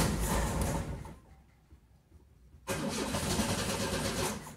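A car running on Pinga 51 cachaça instead of fuel cranks and sputters, dies into a near-silent gap, then a starter churns loudly again, close by.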